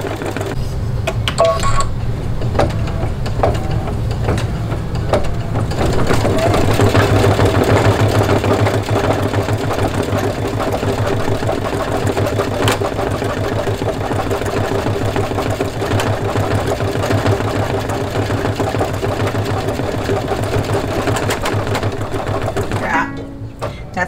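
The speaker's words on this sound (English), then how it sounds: "That's that sound again of the thread shredding." An embroidery machine stitches rapidly with shredding thread, a busy, rhythmic mechanical chatter that runs steadily throughout, loud and close.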